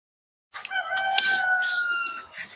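A rooster crows once in a long, drawn-out call with a few clucks around it, close and loud, coming on suddenly after a moment of silence.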